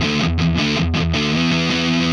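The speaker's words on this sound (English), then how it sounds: "that's what you get with lots of distortion, right? That high noise floor" An electric guitar plays a short riff with heavy distortion over a high noise floor, thick buzzing chords with brief choppy gaps, close and loud with no voices.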